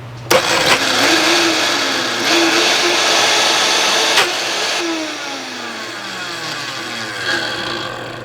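A blender strains at high speed through a thick mixture, its motor whining loudly and steadily with repeated dips in pitch as the blades bog down, then slowly winding down.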